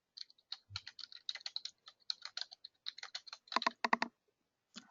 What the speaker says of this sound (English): I start typing it, filters out